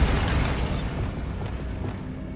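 A Bombarda blasting spell goes off in Hogwarts Legacy with a loud, deep boom at the start that rolls away into a long, rumbling decay.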